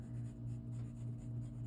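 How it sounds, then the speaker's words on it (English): A blue colored pencil shades on paper in a cloud drawing, giving a faint, steady, soft scratching over a low background hum. "blue colored pencil"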